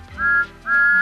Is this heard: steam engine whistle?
yes